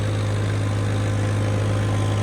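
A tractor engine runs steadily at idle, a loud, continuous low diesel thrum with a rapid rhythmic chug and no voices.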